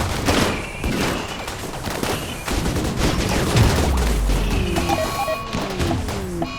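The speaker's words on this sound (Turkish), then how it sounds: "Ben yine vuracağım ki şimdi." Gunfire in the video game RimWorld, a dense fusillade of overlapping shots and thuds, loud and sustained throughout with sharp cracks and scattered impacts.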